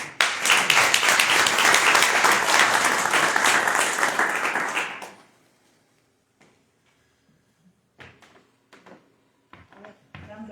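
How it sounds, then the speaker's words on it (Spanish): Applause from an indoor audience at a poetry book presentation at a book fair, dense clapping for about five seconds before fading, followed by near silence with a few scattered taps and knocks. "Un aplauso para ella."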